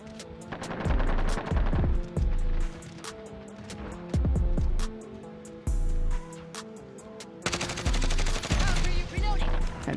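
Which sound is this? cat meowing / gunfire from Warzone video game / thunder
gunfire from Warzone video game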